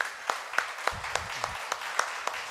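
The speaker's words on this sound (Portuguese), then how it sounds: "Você pode aplaudir o nosso Senhor?" Hands clap in an even, rhythmic beat, about three to four claps per second, over a soft church congregation murmur and a brief low voice.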